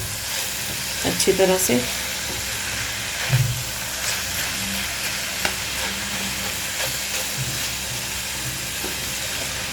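Vegetables for Chinese chicken and vegetable fried rice fry in a hot pan with a constant sizzle, broken by occasional scraping and clanking stirs of a spoon against the pan, while someone speaks briefly.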